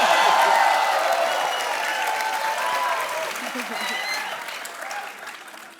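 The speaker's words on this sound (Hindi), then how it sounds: "इसका सिर्फ तालियां." Loud studio audience applause from a Hindi comedy talk show, a dense wash of clapping that starts strong and slowly fades over several seconds, with a few cheers mixed in.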